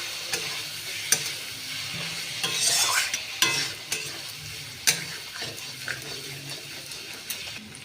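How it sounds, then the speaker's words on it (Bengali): Masala with cumin and chili powder for a duck egg curry sizzles in a pan while a spatula stirs and scrapes it, with sharp clicks at irregular moments over a soft frying hiss. "আমি আবারও মশলাটা খুব ভালো করে কষিয়ে নেব"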